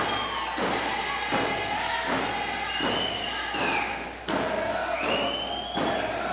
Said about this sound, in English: Crowd warming up to the old Massett Masters busting into dance.